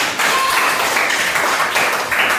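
Schoolchildren in an elementary classroom clap their hands together in a dense, steady burst of applause that fills the room for about two seconds, close and fairly loud with no voices over it.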